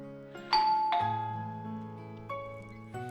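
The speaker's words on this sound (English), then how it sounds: "The doorbell rang just as I returned to the living room." A two-tone ding-dong doorbell chimes inside the video game The Shell Part III: Paradiso. It rings clearly over a soft, steady musical background, with a second chime near the end.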